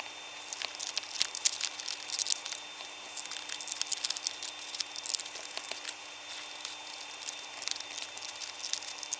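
Paper masterboard being cut into junk journal postcards: a steady, busy run of close crisp snipping, rustling and crinkling paper sounds that continues throughout without any talking.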